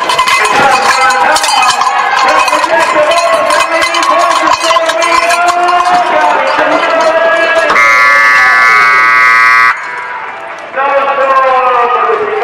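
A loud, steady electronic buzzer blares at a bull-riding rodeo for about two seconds, rising over a roaring crowd and announcer-style talk with cowbell clanking.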